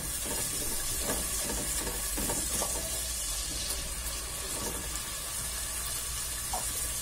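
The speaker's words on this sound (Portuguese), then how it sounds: "e agora, você vai pingando água, um pouquinho" Water dripped a little at a time into a hot cooking pan produces a steady sizzling hiss with faint crackles, constant and close in a kitchen, with no talking.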